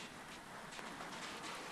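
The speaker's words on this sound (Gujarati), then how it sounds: "આ વરસાદ બધું જામ્યો છે જોરદાર." Heavy rain falls steadily onto a house rooftop, a dense, even hiss heard faintly with no voices.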